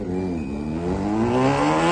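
A motorcycle revs up in a short, close burst, its engine pitch climbing steadily and loudly with no talk over it.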